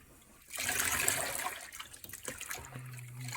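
A skein of dyed yarn is rinsed in water, with a sudden rush of splashing followed by uneven trickles and drips, fairly soft and close.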